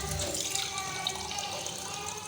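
Water poured from a vessel into a pan of dal with spices cooking, a short continuous splashing pour, close and fairly loud.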